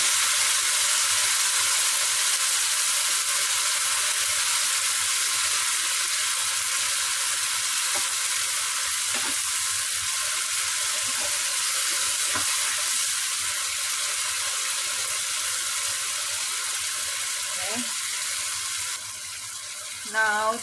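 Tomato pieces dropped into hot oil over a high flame for a Filipino home-style sautéed dish, giving a steady, loud broadband sizzle and frying crackle, with a few clinks of stirring toward the end.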